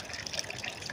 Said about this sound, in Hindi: पानी फुल हो गया, अब इसको बंद कर देते हैं यहाँ से